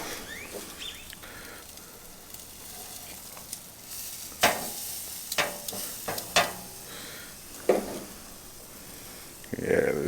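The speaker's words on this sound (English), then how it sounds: "Got some sausages right here. So let's get it to cook." Sausages sizzle on a grill at low level, a soft continuous fry with scattered sharper pops and scraping clatters from handling.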